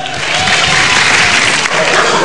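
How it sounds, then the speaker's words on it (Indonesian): Loud, dense audience applause at a televised stand-up comedy show, a continuous wash of many hands clapping with crowd noise throughout, briefly dipping before swelling again. "Ya udah, tepuk tangan sekali lagi tuh Viko."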